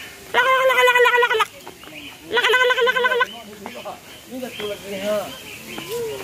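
Two loud, harsh gobbling calls from a turkey nearby at a zoo, each about a second long, followed by softer clucks and chatter.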